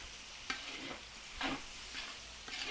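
Chopped onion and garlic stir-fried in a pan as the base for pork adobo, quiet sizzling with a few scraping stirs of the spatula spaced about a second apart, close and alone.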